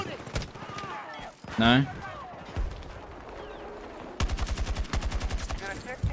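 Gunfire in the Battlefield 6 video game: a few scattered shots, then a rapid automatic burst near the end, mixed with in-game chatter and a player speaking.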